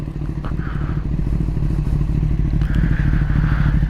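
A 2021 Kawasaki ZX-10R sportbike engine runs steadily close by at high RPM, a dense low drone with clattering mechanical texture and brief higher-pitched rises in revs, no voices.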